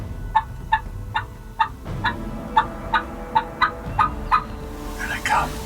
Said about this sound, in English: We had a turkey that was way out the ridge there.